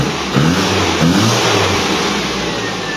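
A car engine turns over, catches and revs in a couple of rising bursts, then settles into a steady, close idle that runs to the end.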